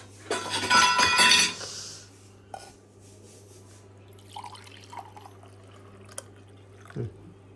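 Coconut water splashes into a glass in a brief loud burst of pouring, followed by sparse drips, faint clinks and soft handling noises in a quiet room.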